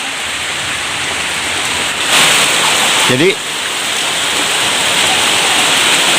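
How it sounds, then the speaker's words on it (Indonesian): Steady afternoon rain pours outside a leaky village house in Lebak, a constant broadband wash of falling water heard throughout, with a voice briefly speaking over it partway through. "alhamdulillah diguyur hujan seperti ini"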